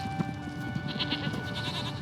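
Goats bleat in short overlapping calls over a steady ambient bed in The Witcher 3, fairly quiet and continuous throughout.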